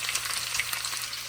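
Onions sizzle in hot oil with bay leaves and a cinnamon stick for Jordanian mansaf, a steady bright crackling fry close up, with no talking.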